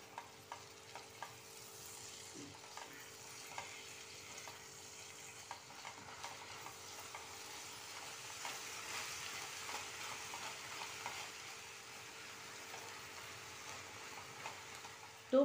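Cabbage cooking in a pan after salt is added makes a faint, steady low sizzle, with light, intermittent clicks and scrapes of stirring throughout and a slightly louder knock at the very end.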